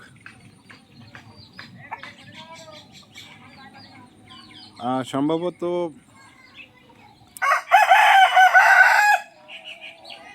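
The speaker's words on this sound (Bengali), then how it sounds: "হাঁস মুরগি কিচির মিচির করে ডাক দিচ্ছে এই যে চলে এসেছে বাগা মোরগ" Backyard chickens and ducks cluck and chatter on a rural homestead, then a rooster lets out a loud, close crow, followed by a burst of harsh squawking, with a voice speaking briefly.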